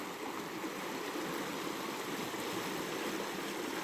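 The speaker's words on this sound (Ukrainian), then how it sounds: "Як бачите, є невеликий паводок на річці." The Tisza river in a small flood near Vynohradiv, undercutting its right bank, makes a steady, even rush of flowing water that carries on unbroken with no voices.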